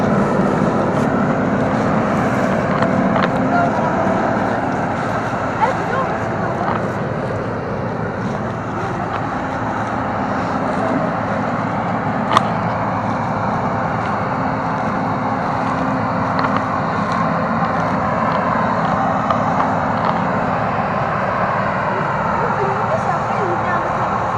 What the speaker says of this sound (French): le tracteur il repart plein de blé